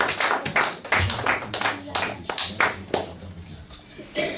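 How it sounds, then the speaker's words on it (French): A church congregation at a Sunday service breaks into applause and shouted acclamations, a dense, lively burst of clapping and cheering voices filling the room, close and fairly loud. "Manifestez cela par les acclamations"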